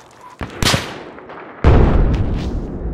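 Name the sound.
gunfire in a first-person shooter video game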